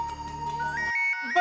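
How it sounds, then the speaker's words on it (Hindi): A phone ringtone rings in a sitcom household scene, a short electronic melody of bright tones that briefly cuts out and then resumes. "दया बेन का फोन है।"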